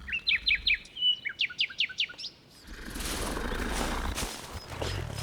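A magic bird in a cartoon chirps bright, rapid trilling phrases in quick repeated bursts, then gives way to a steady whooshing magical shimmer.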